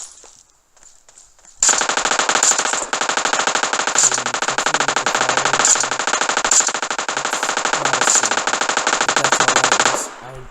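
Sustained automatic gunfire from PUBG Mobile starts abruptly after a short quiet moment and rattles on loud and close for about eight seconds in one unbroken burst before stopping.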